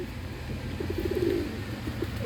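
A tumbler pigeon coos at a coop in a short series of soft, low, close calls that run together in the middle, with one more coo near the end over a steady outdoor background.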